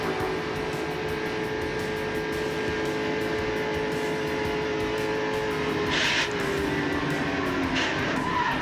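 A pack of stock cars racing nose to tail at the Daytona 500, a dense sustained engine roar with steady high harmonics and faint passing swells, continuous for several seconds with no talk.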